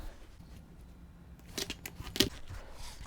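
A rotary cutter trims a thin sliver from the edge of a scrappy 16-patch quilt block on a cutting mat, a few quick close scraping cuts with a sharper crisp slice near the middle, fairly quiet and with no talk.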